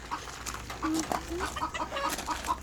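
Small hens that lay small eggs cluck in short, scattered bursts close by, in a botanical garden on Mahé, Seychelles, with faint background chatter and farmyard noise underneath.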